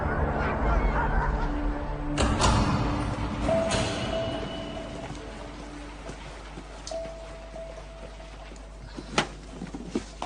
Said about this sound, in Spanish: Perros de trineo para la guerra.